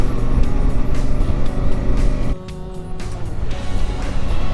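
A motorcycle with baffles fitted in its exhaust rides along, a steady engine drone mixed with wind rush that briefly dips in level before building again.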